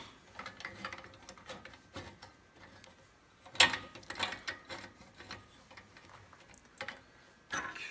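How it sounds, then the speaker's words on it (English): A metal nut being threaded onto a bolt while assembling a Holzfforma Alaskan sawmill: soft irregular ticking and ratcheting metallic clicks, close and fairly quiet, with a sharper clank partway through and no talking. "And then we're going to thread it in."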